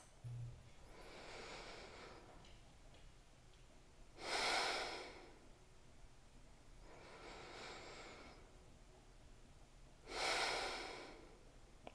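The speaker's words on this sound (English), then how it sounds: "when you breathe in, I want a big, messy Buddha belly breath." Deep diaphragmatic belly breathing, with four slow breaths alternating: softer inhales and louder, rushing exhales, close and evenly paced against a quiet background.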